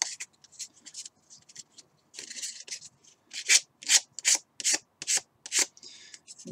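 A model rocket fin's edge is lightly rubbed across sandpaper in a series of short, regular, close rasping strokes, softer at first and then louder and evenly spaced, with no talking.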